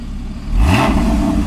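A Porsche Cayman S in sport mode with its exhaust flaps open revs up once. The swell is close and loud and rises sharply from a steady idle before holding at a strong resonant roar.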